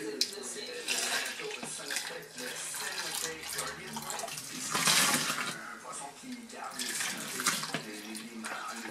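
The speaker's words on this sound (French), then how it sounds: "On rince le plat comme il faut." Tap water runs steadily into a kitchen sink while a dish is rinsed during home bread-making, splashing and shifting in tone, with people talking over it.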